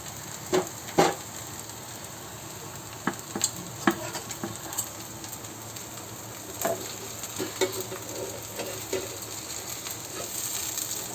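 A rice flour dosa sizzles on a pan after being flipped: a quiet, continuous frying hiss with scattered soft clicks and scrapes from the spatula, growing slightly louder at the end.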